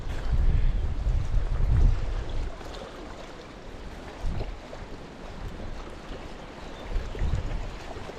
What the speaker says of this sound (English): now the wind just got up down here